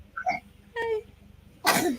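A person sneezes indoors, one loud burst near the end after a couple of short breathy vocal sounds, close and clear with no talk over it.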